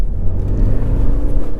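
Lexus CT200h hybrid revving under acceleration, a loud, close, low droning engine rumble that holds steady without climbing.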